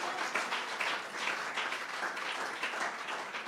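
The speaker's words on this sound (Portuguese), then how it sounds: "Damos um aplauso para Jesus." Applause from a church congregation, a steady wash of many hands clapping together, fairly faint and continuous with no talk over it.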